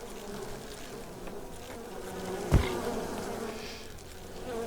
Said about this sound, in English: And so many bees.